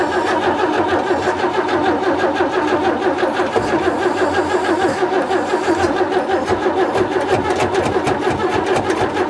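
An old 1940s Chevy barn-find pickup engine turns over on the starter, a steady loud mechanical churning that runs unbroken for the whole stretch without catching.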